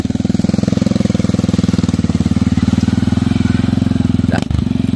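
A motorcycle engine runs close and loud with a fast, even, throbbing putter that holds steady throughout, broken only by a brief knock near the end.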